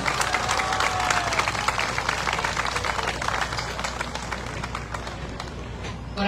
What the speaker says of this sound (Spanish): es para el señor Marvel Rebolledo, para quien pido un fuerte y caluroso aplauso.